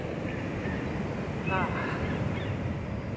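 Ocean waves breaking on the beach at Old Orchard Beach, Maine, in the off season: a steady, broad roar of surf mixed with wind buffeting the microphone, continuous and fairly loud throughout with no talking.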